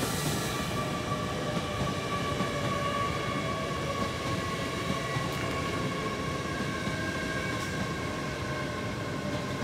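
A train rumbles steadily past at close range through Retford station, with sustained metallic whining tones over a continuous roar of wheels on track.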